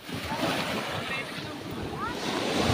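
Rough sea surf roars and splashes around a fishing boat, with heavy wind buffeting the microphone throughout and a voice speaking briefly.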